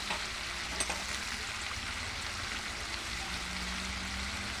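Ground spices frying in a pan while making a mocha (banana flower) dish, a soft steady sizzle and crackle at low level with one faint clink of a utensil, no talking.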